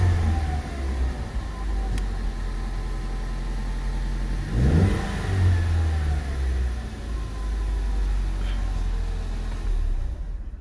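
A 2015 Ford Mustang EcoBoost with a fairly stock engine revs up briefly from a steady idle, a low mid-range rumble swelling once and settling back down, heard close and fairly loud.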